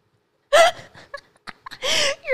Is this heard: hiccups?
yes